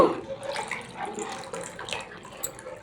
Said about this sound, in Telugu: తగినంత వాటర్ యాడ్ చేసుకుందామండి ఇప్పుడు